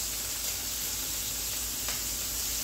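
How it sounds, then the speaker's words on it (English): Chicken searing in a pan makes a steady, moderately quiet hiss and sizzle that holds evenly throughout, with one faint scrape near the end and no voices. "you want to sear it a couple minutes on each side"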